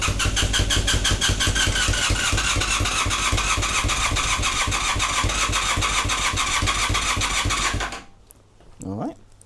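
An engine on choke cranks with a fast, even rhythmic chugging, firing loudly but never catching, for about eight seconds before cutting out, followed by a brief voice.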